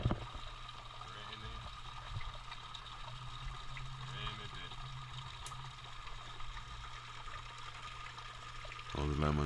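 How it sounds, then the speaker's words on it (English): Rainwater runoff after a storm flows steadily into a garden pond with a continuous soft rush and trickle, fairly faint and even throughout. "This is where actually most of the water comes off."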